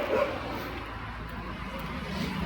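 Dogs barking and yipping somewhere amid a noisy outdoor Indian wedding procession, with a steady crowd din and someone talking over them.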